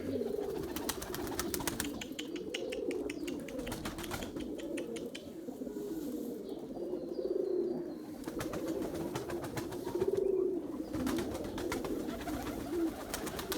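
Erzurum white pigeons coo repeatedly in a soft, low rolling rhythm, with a dense, busy backdrop of birds and occasional wing flutters close by.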